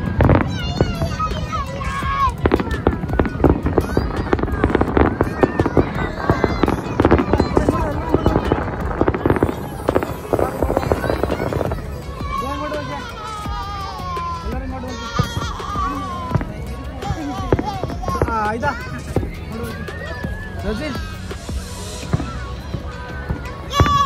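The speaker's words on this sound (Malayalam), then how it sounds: "ഇത് മുഴുവനും ഫയർ വർക്സിന്റെ വീഡിയോ മാത്രമാണ് കേട്ടോ." Fireworks show at a Kuwait National Day celebration in Kuwait City: continuous crackling bursts and booming explosions heard from within the crowd, with people shouting and talking throughout.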